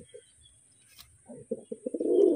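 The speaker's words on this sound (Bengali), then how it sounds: "এই যে আর একটা পায়রা শখ করাচ্ছি, এটাও আন্ধ্রা পায়রা, কাছে থেকে শখ করাচ্ছি" Andhra breed pigeons cooing close by, with a short run of soft, throaty pulsing coos that builds toward the end after a mostly quiet start.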